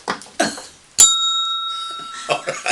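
A single bright strike of a hand bell rings out and decays slowly over about a second, with people talking just before and after.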